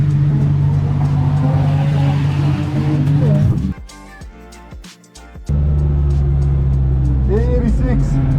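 A drift car engine drones steadily at the track, loud and close, then cuts out for a couple of seconds before returning, with a person talking over it.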